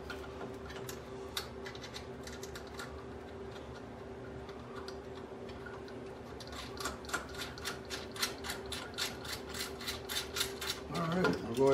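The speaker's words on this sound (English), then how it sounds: "we'll go ahead and tighten these down" Nuts being tightened on a Generac XT8500EFI generator during a gas-to-propane conversion, a run of rapid ratcheting clicks that starts sparse and grows into a dense, steady tick-tick near the end, close up over a faint hum.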